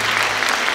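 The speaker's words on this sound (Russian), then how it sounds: "А почему вы не хлопаете? Вы умеете?" Audience applause at a concert honouring a composer's 80th birthday, a dense, steady clapping from a full hall filling the whole short moment without pause.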